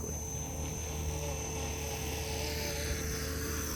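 Small GPS-equipped RC helicopter with a direct-drive motor tail rotor, a steady high-pitched electric whine and buzz with constant tonal hum, close and unbroken throughout, with no voices.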